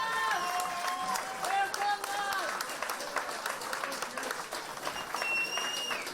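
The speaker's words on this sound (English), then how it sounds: "Please give a warm round of applause for both of these men in the cage." Arena crowd at a caged MMA fight event applauding the two fighters after a main-event bout, with steady clapping and cheering filling the hall throughout, some whistles and shouts rising over the din.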